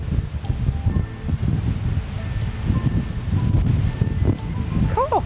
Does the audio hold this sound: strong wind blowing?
yes